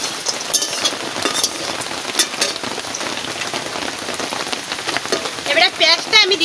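Cumin seeds and dried red chillies, one split down the middle, sizzle in hot oil while cooking a potol or jhinga malai curry, a steady crackling hiss with sharper pops near the end.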